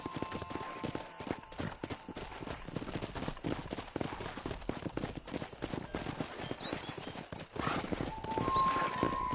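Horse hooves clop in a quick, steady trotting rhythm in the video game Red Dead Redemption, continuous throughout, with wind and movement noise around them and a faint tone near the end.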